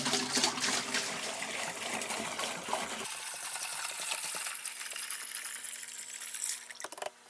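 Water pours into an aquarium tank, a continuous splashing and gurgling rush that settles into a steadier trickling flow with small clinks near the end, nearby and with no talk.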